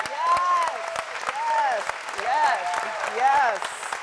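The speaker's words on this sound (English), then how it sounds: "clap for him" Crowd applause at a political event, with clapping spread under cheers and whoops; voices rise in repeated shouts over the steady patter of many hands.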